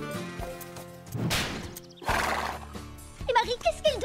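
Cartoon horse whinnying and hooves clip-clopping on a western riding ranch, a loud neigh followed by rhythmic hoofbeats and a second whinny at the end, with faint background tones.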